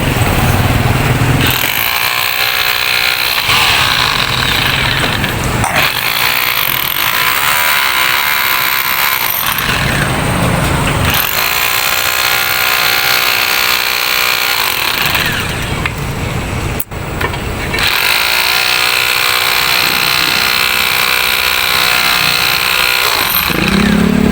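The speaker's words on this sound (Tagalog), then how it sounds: "Rotary drill lang yan, hindi na camera yan." Rotary drill running loudly while digging for gold, its steady mechanical drone cycling on and off in long bursts with brief pauses between.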